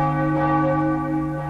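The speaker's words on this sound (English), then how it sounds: "The bell tower's ringing." A bell tower in the game Morrowind rings out with one sustained, resonant toll whose rich harmonics hang loud and steady without any talk.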